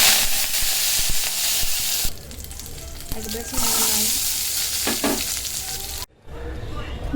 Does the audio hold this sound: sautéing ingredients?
yes